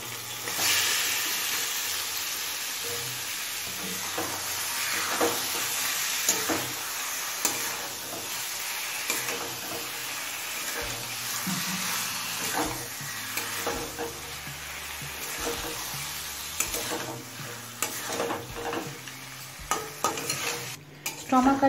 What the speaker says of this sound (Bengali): স্টমাক আর লিভারটা দিয়ে নাড়াচাড়া করে সমস্ত মশলার সাথে ভালোভাবে মিশিয়ে নিয়েছি